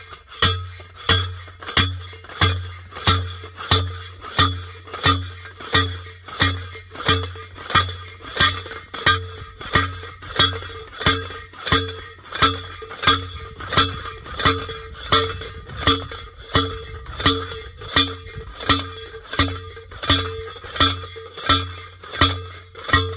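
A manual bell-type post driver pounds a corner fence post into pasture ground, each blow a sharp metallic clank with a ringing tail, repeating in a steady rhythm about once a second, close and loud, with no talking.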